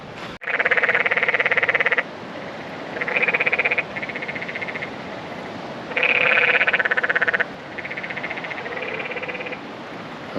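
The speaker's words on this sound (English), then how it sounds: "I was trying to figure out what was causing that sound, but it's toads in the water" Toads call from the water in a canyon on a Grand Canyon backpacking route, making loud, close, sustained buzzing trills that come in bursts of a few seconds each with short pauses between them, with no voices.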